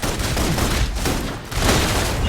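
Full suppression gunfire in the video game Love and Deepspace: dense, rapid bursts of shots that pile into a continuous loud barrage, with a brief dip in the middle.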